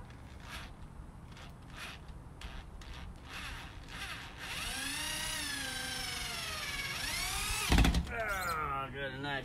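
A power drill countersinks a screw hole while building a door for a rain shed: a few short taps, then a close, whining spin-up lasting about three seconds that ends in a sharp thump, followed by brief rattling.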